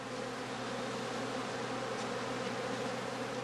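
A thick, unbroken buzz of honey bees fills the air near a skep being worked at an autumn apiary, close and even throughout.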